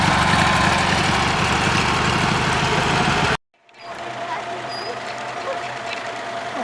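An antique car idles with its exhaust pipes mounted low, at a vintage car gathering in Haguenau, France. A loud, steady rumble cuts off abruptly partway through, then a quieter idle resumes while people talk.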